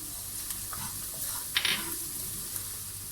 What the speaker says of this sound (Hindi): मसाले हमारे बहुत अच्छे से भुन गए और इनकी खुशबू भी बहुत प्यारी आ रही है